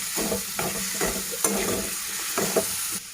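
Tomatoes are stirred into poha pulao in a sizzling pan, with rhythmic spatula scrapes every half second or so over a constant frying hiss.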